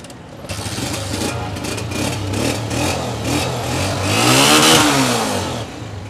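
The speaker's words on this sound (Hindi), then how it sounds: "होंडा खड़ा स्टार्ट, बाइक आपके सामने" A 2010 Honda 125 motorcycle engine starts up and idles with a steady throb, then revs higher before settling back, loud and close.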